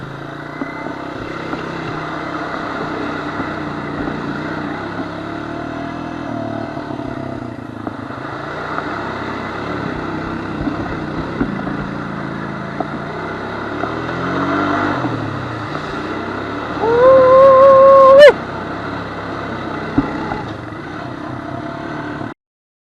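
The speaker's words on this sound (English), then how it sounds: "Fun times riding the dirt bike." A Honda CR250 dirt bike rides down a bumpy trail, its engine droning steadily up close, then briefly revving harder near the end.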